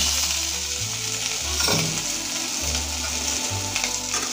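Pre-fried potatoes go into a little hot oil with pea-leaf curry, and a loud, dense sizzle rises at once, with stirring scrapes and a low rumbling hum beneath.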